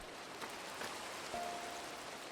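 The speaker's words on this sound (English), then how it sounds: "it's raining and it is dark outside" Steady, soft rain falls continuously in a video game, a faint even patter with a few slightly louder drops and no voices.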